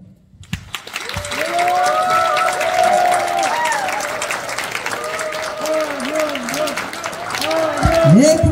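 Members applauding at a badminton club's 32nd anniversary ceremony, sustained hand clapping from a room full of people that grows louder toward the end, with voices calling out now and then.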